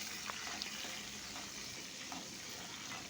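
Mustard seeds, urad dal, chilli and curry leaves sizzle and crackle steadily in a pan while being stirred, a continuous close frying hiss with small pops, no voices.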